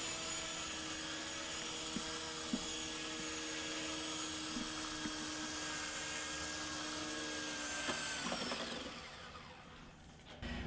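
A Walkera HM4 radio-controlled helicopter flies close by with a constant high-pitched motor and rotor whine that holds steady, then drops away toward the end.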